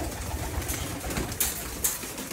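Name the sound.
Teddy pigeons cooing in a loft in Oman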